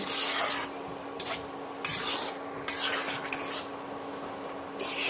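Lentil dal being sautéed with spices in a pan, giving repeated scraping and stirring strokes of a utensil against the metal with a light sizzle underneath, close and fairly loud, with no talk.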